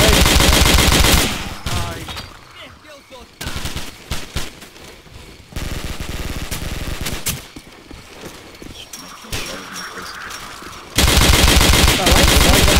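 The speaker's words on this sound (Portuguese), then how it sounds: "tô tomando tiro aqui!" Loud bursts of automatic gunfire in a Call of Duty night capture-the-flag match set in a Rio favela, with rapid volleys broken by quieter gaps.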